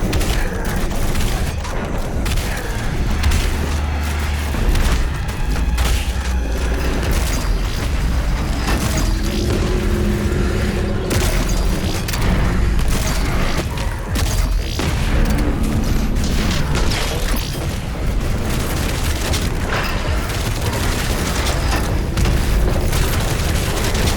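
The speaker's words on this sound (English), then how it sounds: "get the full auto mod, which turns the shotgun into a fully automatic weapon. Firing shotgun shells very fast" A fully automatic shotgun fires shells in rapid succession in the shooter game DOOM Eternal, loud dense booming bursts running almost continuously, overlapping with clanking weapon mechanisms and battle noise.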